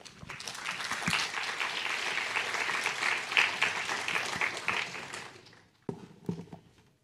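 Warm audience applause at the Shaw Prize Lecture in Life Science and Medicine 2023 greets Professor Patrick Cramer, a dense, steady roar of clapping lasting about five seconds before fading, then a brief scattered burst of claps.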